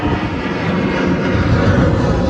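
Steady, loud broadband roar of an airplane passing overhead near an airport, heard from a sailboat, with no voices over it.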